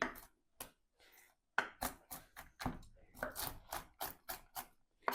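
A knife chops roasted almonds on a board for a festive salad, giving quiet irregular taps close by, some spaced out and others in quick clusters.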